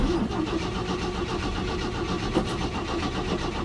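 An old Chevy C10 pickup engine, left sitting for decades, cranks steadily and catches into a rough, loud running note, continuous throughout with no voices.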